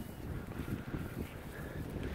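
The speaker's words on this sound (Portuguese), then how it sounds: "Vai ficar um pouco de barulho que o vento está forte aqui." Strong outdoor wind buffets a microphone with a low, rumbling, fluttering noise. It stays continuous and fairly quiet, with no voices.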